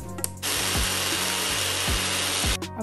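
An electric grinder whirs loudly and continuously for about two seconds as it grinds roasted spices, starting and stopping abruptly, with a brief rattle before and after.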